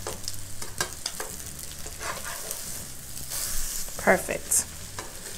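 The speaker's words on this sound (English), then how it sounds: "I'm going to continue to fry the salmon patties" Salmon patties fry in a pan on a stovetop over medium heat, a steady sizzle running throughout with a few louder pops and spatters near the end, and a single brief spoken word over it.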